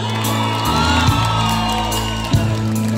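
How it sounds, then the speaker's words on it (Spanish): A live concert crowd at a regional Mexican music show in Malinaltepec cheers and whoops loudly, shouts and applause rising close and sustained for about three seconds over a steady musical backdrop. "Un aplauso para ustedes."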